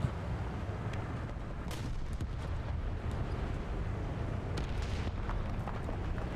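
A Sturmtiger's 380 mm gun fires and its shell explodes in War Thunder, with heavy booms and sharp blasts over a continuous low battlefield rumble.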